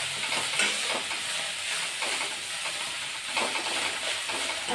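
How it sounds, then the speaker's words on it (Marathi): Fenugreek leaves frying in hot oil, a dense, even hiss and sizzle with soft stirring underneath, close and steady throughout with no voices. "तेल आपलं गरम झालेलं आहे याच्यात आपण ही भाजी घालूया भाजी आपण व्यवस्थित परतून घेतोय"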